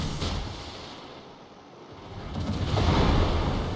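Destroyer naval guns fire in World of Warships, a deep rumbling boom swelling toward the end over a steady windy sea ambience, with no talking.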